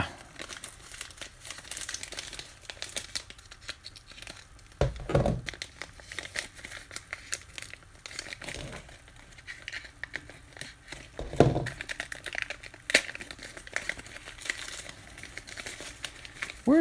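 A package crinkles and rustles close up as a knife cuts into its plastic wrapping, with irregular crackles and a few louder tearing bursts over about seventeen seconds.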